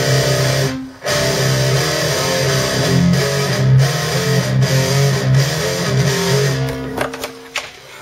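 An electric guitar with no effects or amp preset plays dry chords and single notes for metal, slightly harsh, with brief gaps between strums and a quieter scratchy ending.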